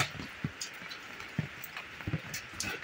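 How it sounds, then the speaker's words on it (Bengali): Rain falls during a storm as a faint, steady patter with a few sharper drops striking a surface now and then, no one speaking. "এত ঝড় বৃষ্টি হচ্ছে"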